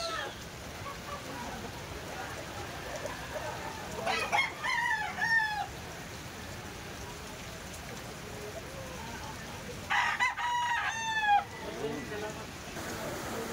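A young stag gamecock crows twice, well separated, each a rising and falling cock-a-doodle-doo over a steady rain-like hiss at moderate distance.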